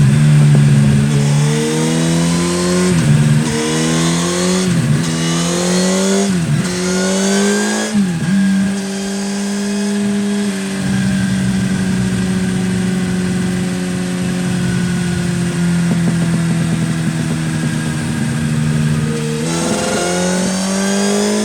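Yamaha MT-07 motorcycle engine heard up close and loud with no talk, revving up and down in several quick blips early on, then holding a steady, rumbling idle-to-mid rev with a final rise near the end.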